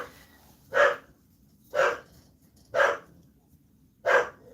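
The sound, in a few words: dog barking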